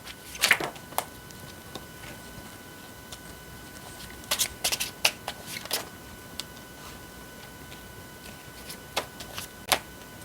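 Tarot cards are shuffled and handled in a quiet room, giving soft, sparse clusters of crisp flicks and taps with pauses between them, close and faint.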